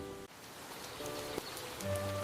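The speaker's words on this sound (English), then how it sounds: "Uh-oh, it's raining." Rain patters steadily on a surface, a soft continuous hiss with a few brief tonal musical notes layered over it, short and fairly close.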